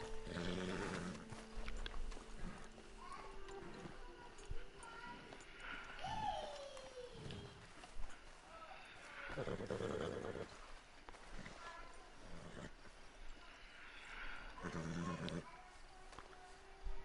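Horse whinnying and snorting in Red Dead Redemption 2, a short neigh rising mid-clip among clip-clop hooves, game ambience and other snorts, with a voice talking over parts of it.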